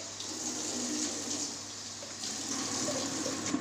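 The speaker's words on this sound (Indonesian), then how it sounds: "Lalu bilas menggunakan air mengalir." Running tap water flows steadily to rinse equipment during a sterilization lab practical, a faint, even watery hiss lasting a few seconds, with no speech.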